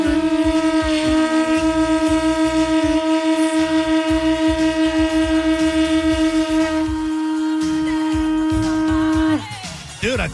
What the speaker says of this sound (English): We're going to honk these conchs and send you into the weekend the right way